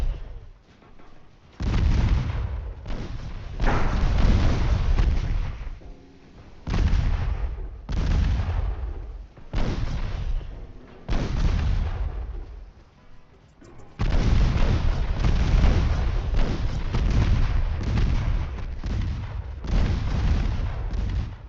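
Heavy naval gunfire from cruisers and destroyers in Ultimate Admiral Dreadnoughts, a naval war game: repeated loud booming salvos and explosions in irregular bursts, with brief lulls between volleys and no talking.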